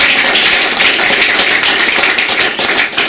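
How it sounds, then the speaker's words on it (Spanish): Church congregation applauding together in a steady, dense wash of clapping that fills the space throughout, loud and continuous with no pauses. "Así que un aplauso para todos ustedes."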